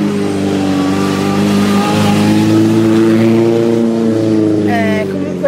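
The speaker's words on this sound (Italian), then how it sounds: "Sentite le macchine?" Rally cars at the Rally Varallo Borgosesia pass with loud, sustained engine drone and rising revs, close and continuous, while someone speaks over the roar.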